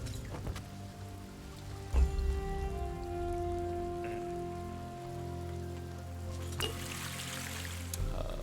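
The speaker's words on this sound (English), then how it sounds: "Let's go check out this waterfall-looking thing here." Rushing waterfall water in the fantasy strategy video game Songs of Conquest: a continuous, even splashing wash like steady rain, with faint tonal game music underneath and no talk.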